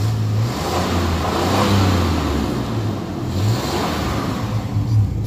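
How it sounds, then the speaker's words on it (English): A Blazer SUV engine idles and revs in steady, rising and falling surges, heard close up without talking. "here's the sound of the engine."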